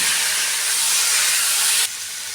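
Water poured into a hot pan of chicken kosha, cooked with whole onions and garlic, gives a loud, close, steady steam hiss for about two seconds before it drops abruptly to a softer simmer.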